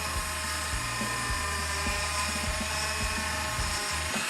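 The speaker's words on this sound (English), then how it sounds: "I'm not saying I cut myself with a Dremel" A Dremel rotary tool whines at high speed while cutting a 1/60 scale model kit part, a loud continuous buzz with its pitch dipping and rising in short pulses as the bit bites into the plastic.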